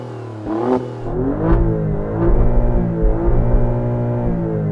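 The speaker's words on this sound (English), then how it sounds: "Let's hear the Alfa first. Go on, Mum, rev it up." Alfa Romeo Stelvio Quadrifoglio engine revving hard in several rising blips, each surge climbing then falling back to a steady, loud idle, close by with no talk.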